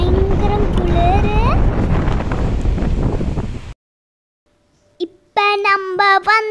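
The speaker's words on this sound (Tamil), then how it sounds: "இந்த இடத்துல பயங்கர காற்று, பயங்கரம் குளிர்." Strong outdoor wind in the cold hills of Kodaikanal buffets the microphone with a loud, rough roar for several seconds, then cuts out. A voice speaks briefly afterward.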